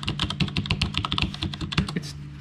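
Rapid, fairly loud typing clatters on a Cherry low-profile mechanical keyboard with black switches, with crisp clicky keystrokes in quick succession and no talk.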